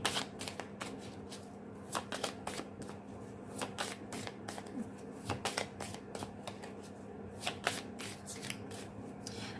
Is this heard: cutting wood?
no